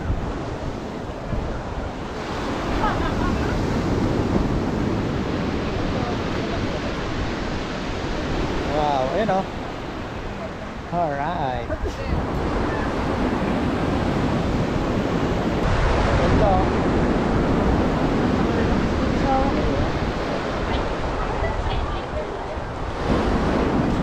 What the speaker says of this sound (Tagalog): Agos ng alon